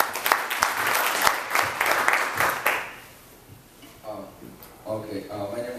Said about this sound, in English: how about a round of applause for Elmer?